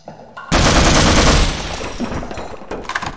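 Loud automatic gunfire from the game Half-Life Source bursts in after a brief quiet start, a dense rapid rattle of shots that fades into scattered echoing pops and a few final cracks.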